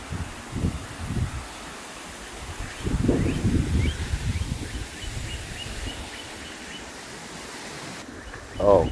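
Wind gusts through a forest and bamboo stand on a windy day, with soft rustling surges that rise and fall, a stronger gust near the middle and faint bird chirps in the background.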